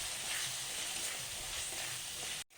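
Homemade garam masala fries in a pan during cooking of a soya chunks curry, a steady close hiss of sizzling oil that holds evenly and cuts off abruptly near the end, with no talking.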